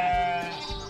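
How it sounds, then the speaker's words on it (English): A sheep bleats several times in quick succession, wavering and fairly faint, over a steady background hum on a farm. "He saw a mama sheep and her two babies."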